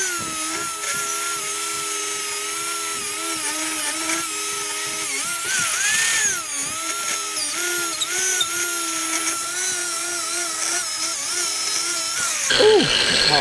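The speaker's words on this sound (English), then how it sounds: "I'm gonna grind this side off here." A power tool grinds off a wishbone bush on a Ford Focus ST, a close, high-pitched whining drone that holds steady with pitch dips as it bites into the workpiece, ending in a short clatter.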